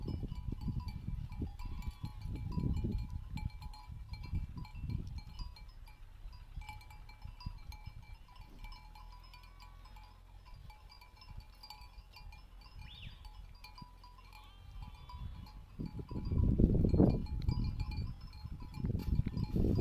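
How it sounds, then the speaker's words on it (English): Sheep and goats grazing in the mountains bleat faintly at a distance, with soft rustling and low thumps rising and falling across a quiet outdoor scene. "Watching the sheep and goats peacefully grazing is very relaxing."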